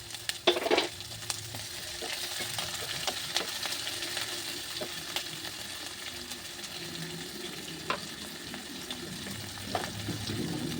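Ginger and chopped green chillies fry in a pan for a samosa filling, a steady low sizzle with occasional sharp clicks and scrapes of a spoon stirring, close and without talk.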